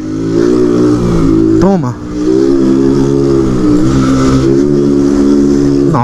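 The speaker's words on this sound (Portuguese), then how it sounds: "parece que é só quando eu tô gravando que eu começo a tirar de giro" A motorcycle on a night delivery run holds a steady, loud, close engine drone with a brief dip and rise in revs partway through, while someone talks over it.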